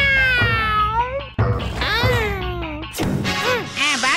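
A cartoon cat lets out a string of long, loud, wavering meows and yowls, one after another over a few seconds, with a brief crash near the end.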